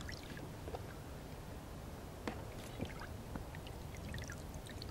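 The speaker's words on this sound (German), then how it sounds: "Wir geben das in das Wasser." Liquid vanilla flavouring is poured into water as part of a carp angling bait mix, giving a soft, continuous trickle with faint splashes and drips close by.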